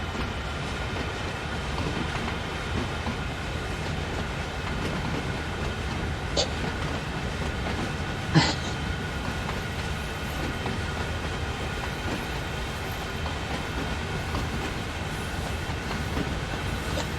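Freight train in Train Sim World hauled by SD-40 and GP-38 locomotives, its wagons rolling with a steady low rumble and faint rail noise, a couple of brief sharp clanks standing out midway.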